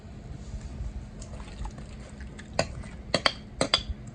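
Spatula scraping a rhubarb and sugar mixture out of a bowl into a pot, a few sharp, close scrapes and clinks of utensil on bowl, spaced in quick bursts after a quiet stretch of low kitchen background.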